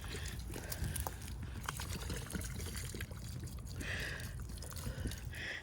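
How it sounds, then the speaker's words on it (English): Fermented banana water is poured from a container onto the soil around the roots of garden plants, a soft steady trickle and splash under outdoor background noise. "I'm just going to simply water them around where the roots are."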